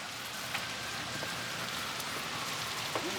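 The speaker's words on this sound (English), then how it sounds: "it's raining pretty hard." Heavy rain pours steadily outside, a dense, continuous hiss of drops on surfaces with a few faint closer taps, no voices.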